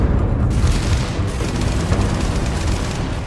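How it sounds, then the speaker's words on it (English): Explosive rounds fired in the video game Starfield, a dense, continuous roar of booming blasts and gunfire, loud and close, with no speech. "different ammunition like explosive rounds"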